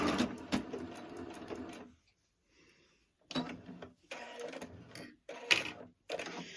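A sewing machine stitches out lettering with its built-in alphabet feature, a close, steady mechanical whir running in bursts that stop and restart between letters, with short quiet gaps.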